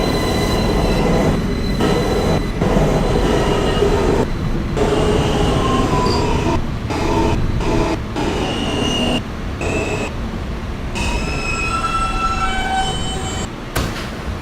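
A Manhattan-bound F local subway train runs loudly and continuously at close range. Heavy rumbling mixes with sustained high metallic wheel squeals that rise and shift throughout.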